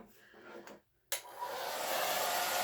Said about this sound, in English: On my blow dryer, when you hit the cool button, it speeds it up a little bit.